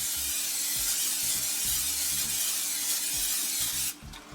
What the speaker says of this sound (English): I'm going to spray it out real good